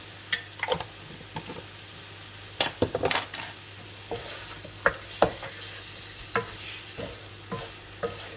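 Whole white cumin seeds sizzle faintly in hot oil for a chicken karhi, with a soft frying hiss underneath a series of sharp metallic clinks and scrapes from a spoon stirring in the pan.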